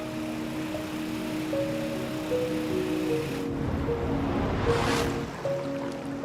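Rushing currents of the Mekong River near falls surge in a steady, broad roar, with a low motor drone underneath and a louder whooshing swell of water near the end.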